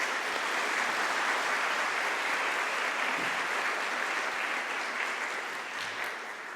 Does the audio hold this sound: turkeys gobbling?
no